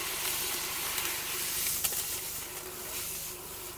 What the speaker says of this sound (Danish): I kan høre, hvordan det koger dernede. Det er altså nitrogenen, der koger af.